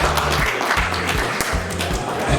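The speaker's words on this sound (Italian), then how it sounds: "facciamo un applauso a questa ragazza." An audience at a calendar presentation event in Padua breaks into applause for a girl, a sustained patter of clapping with a voice murmuring underneath.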